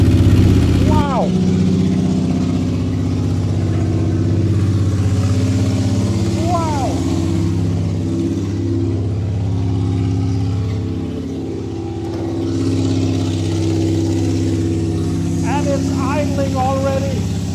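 A Skoda car cruising steadily partway through a long road journey, with a continuous low engine and road drone throughout, while people talk and exclaim over it.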